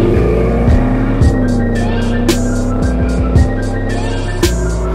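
Hot Wheels diecast toy cars racing down a plastic track, a continuous rolling rumble broken by sharp clacks as the cars hit track joints, loud and close.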